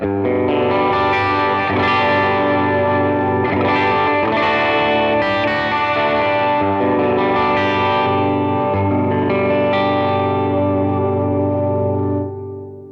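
Clean electric guitar playing sustained chords and melodic lines through a Strymon pedal, bathed in reverb and delay echoes, steady and full for about twelve seconds with no talking.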